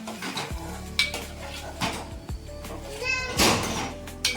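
Paneer is mixed with butter in a pan, with repeated clanking and scraping of a utensil against the metal over a light sizzle and some faint talk.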